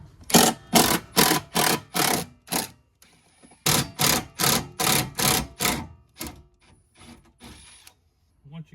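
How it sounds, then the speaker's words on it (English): Bolts being removed from the windshield frame of a rolled Jeep, rapid bursts of ratcheting clicks in quick repeated strokes, close and loud, with a short pause between two runs of cranking. "So right now we just have to take off these 3 bolts in here."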